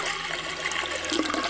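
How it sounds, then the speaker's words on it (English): Water running steadily from a sink faucet in a bathroom, a continuous hissing, splashing flow at moderate loudness, heard alone without talk. "The sound of flowing water had been going on for quite some time."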